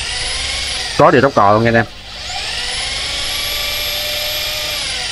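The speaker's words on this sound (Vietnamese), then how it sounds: "Test chức năng khoan thường anh em xem trước nè." A Japanese domestic-market handheld power drill runs in normal drilling mode, with a steady close motor whine that ramps up in pitch; someone talks briefly over it.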